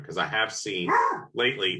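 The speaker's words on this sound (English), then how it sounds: "whoops, sorry, that's my dog." A pet dog barks and yips in short bursts at a home during an online talk, loud and close, overlapping a person speaking.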